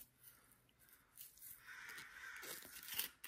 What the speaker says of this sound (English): The crows are going off outside.